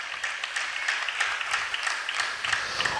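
Steady, dense clapping from an audience at a Christian sermon, a continuous rattle of many hands with small swells throughout, moderately distant and without any voice on top.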